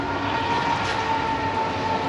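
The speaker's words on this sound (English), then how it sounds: "Every time we do a video, a train goes by." A passing train gives a loud, steady rumbling roar with a sustained tonal hum, close by and continuous for the whole stretch, with no talk.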